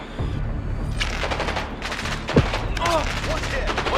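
Gunfire in the Black Ops 6 shooter game: bursts of shots and a sharp boom in a busy combat mix, with voices talking over the action.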